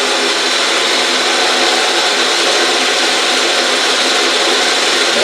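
An Autobox 8x16 lathe runs at full speed, giving a loud, steady, unbroken whine and hum that holds constant throughout with no talking.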